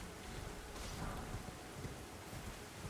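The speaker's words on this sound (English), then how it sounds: "Ooh, it's raining." Rain in the video game Elden Ring falls as a steady dense hiss, with a low rumble like distant thunder swelling briefly near the start. No voices are heard.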